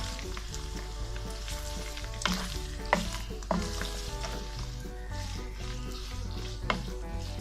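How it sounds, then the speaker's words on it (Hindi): Chicken frying in oil in a kadai for chicken egg fried rice makes a dense, continuous sizzle, punctuated by several sharp stirring clatters from a spatula against the pan. "अब मैं इसके ऊपर इसमें ये चिकन डाल रही हूँ। इसको भी हल्का हल्का फ्राई करेंगे।"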